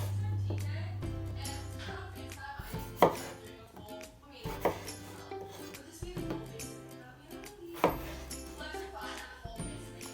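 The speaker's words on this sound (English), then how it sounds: "you're just going to cut them into halves and then into wedges, just like this" A knife cuts Yukon Gold potatoes into halves and then wedges, making repeated close thunks and slicing scrapes against a board in an irregular rhythm, with a low steady hum beneath.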